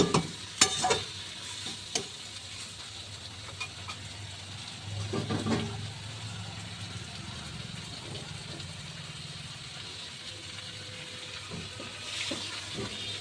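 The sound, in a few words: chicken with onions cooking covered on low heat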